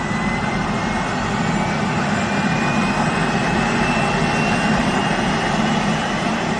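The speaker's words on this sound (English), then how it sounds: "Turbine helicopter starter." A turbine helicopter engine starter spins up with a steady, loud, broadband whine and rush, holding constant throughout with a faint rising tone and no voices.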